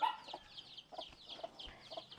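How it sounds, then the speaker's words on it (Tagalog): Chickens on a rural provincial farm in the Philippines cluck in short repeated bursts, fairly close and moderately loud, with several birds sounding in an irregular rhythm. "Yan, mga manok."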